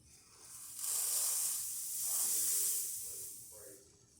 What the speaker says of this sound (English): So here I'm going to show that we have steam.